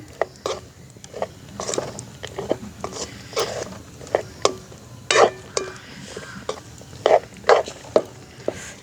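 Peanut halwa is stirred in a pan during village cooking. Scattered scrapes and sharp clacks of the utensil against the pan come at an irregular pace over a faint background hiss.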